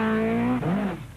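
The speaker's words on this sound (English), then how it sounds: "his Vauxhall Chevette is soon to be delayed by a high-speed spin" Vauxhall Chevette rally car on the 1981 Manx Rally going into a high-speed spin, a loud close engine drone with a falling pitch sweep as it slides, alone without talk.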